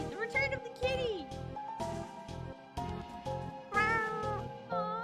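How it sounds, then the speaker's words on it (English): A cat meows repeatedly in the video game Undertale, a string of bright, rising and falling meows in quick succession, loud and close over a steady game music backdrop. "Kitty! The return of the kitty!"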